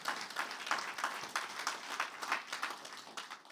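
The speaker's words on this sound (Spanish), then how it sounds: "Regálenle un aplauso más fuerte al Señor." A church congregation claps continuously for a few seconds, a dense, fairly quiet patter of many hands without a voice over it.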